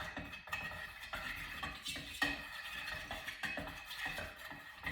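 A utensil stirs melted wax being mixed with mica for wax melts, producing soft repeated scraping and clinking against the container in an irregular rhythm, close and quiet with no talking.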